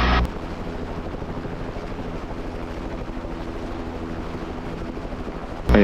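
Continuous Bell 505 Jet Ranger X helicopter rotor and engine drone while hovering, loud and steady, as heard from inside the cabin.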